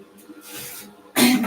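An aerosol can spraying paint onto a late 1970s AMT Super Stone model truck in a paint booth, faint hisses early on, then a loud, close burst of spray at the end.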